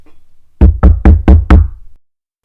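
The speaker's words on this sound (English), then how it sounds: "there was a loud knock at the door." Five loud, sharp knocks strike a door in a quick, evenly spaced series, each rap hard and close, followed by silence.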